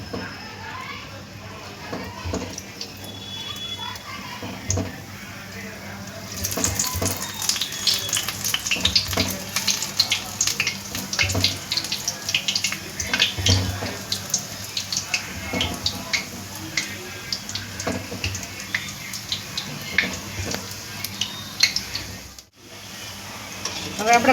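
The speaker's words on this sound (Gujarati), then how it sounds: "ચાલો મિત્રો, તેલ આવી ગયું છે. હવે આપણે ભજીયા મૂકી દઈએ." Bhajiya fritters are dropped into hot oil, raising a dense, crackling hiss that swells after several seconds and bubbles steadily, with faint background voices and occasional clatter.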